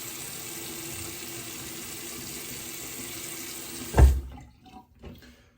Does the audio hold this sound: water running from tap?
yes